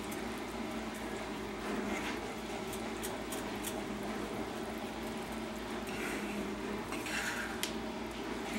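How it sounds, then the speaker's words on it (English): Brown butter caramel sauce is stirred slowly in a pot, a soft continuous bubbling hiss with faint, occasional utensil scrapes and taps, fairly quiet, with no talking. "I'm going to stir it slowly to get it mixed in"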